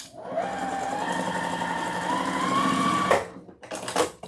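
A sewing machine stitches all the way around the fabric arms of a mummy wreath made for Halloween. The buzzing hum is steady for about three seconds, then breaks into short bursts.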